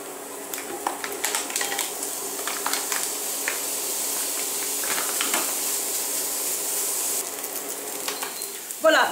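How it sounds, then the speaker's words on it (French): Onions and bacon lardons frying in a pan, giving a steady soft sizzle with faint crackles and scattered ticks, continuous and close throughout. "maintenant, on va faire revenir nos oignons et nos lardons"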